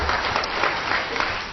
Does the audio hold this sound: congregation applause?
yes